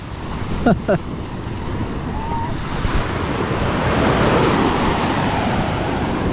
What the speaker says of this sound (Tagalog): Pero yung alon medyo nagwawala pa.